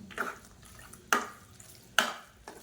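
Spoon strokes through pongal as ghee-fried cashews and raisins are mixed in, giving four separate scraping, sloshing stirs about a second apart, close and moderately soft, with no talking.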